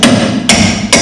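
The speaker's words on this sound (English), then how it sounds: "I'm taking the weight off so I can knock the bolts out." Hammer blows knocking bolts out of a Scout front axle during teardown, three loud sharp metallic strikes spaced about half a second apart, close by, with a ringing tail after each.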